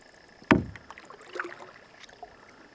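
A canoe paddle strikes and pulls through calm lake water in a single sharp knock and splash, followed by faint dripping and soft water movement in a quiet outdoor setting.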